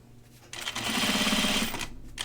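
A sewing machine runs a short burst of stitches through thick backpack fabric binding, a rapid mechanical whirr of about a second starting and stopping abruptly, close and clear.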